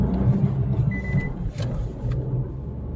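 Renault Kiger car engine running at idle just after starting, a steady low rumble close by with a brief whine partway through, no talk.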